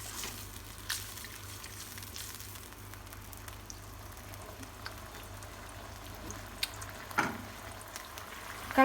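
Steady low bubbling and simmering of salted water with stock powder and sugar in a pan, a soft continuous rolling sound with a few small pops and clinks.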